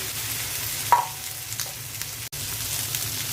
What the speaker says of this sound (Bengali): এখন আমি ঢেঁড়সগুলো দিয়ে দিচ্ছি।